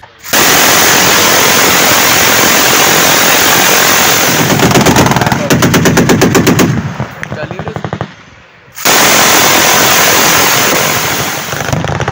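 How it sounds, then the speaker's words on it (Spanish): Machine guns fire at a desert shooting event in Arizona in loud, sustained automatic bursts close by, with rapid repeating shots, a brief pause, and then another long burst. "te pones a disparar con ametralladoras ligeras, ametralladoras pesadas, rifles antimateriales"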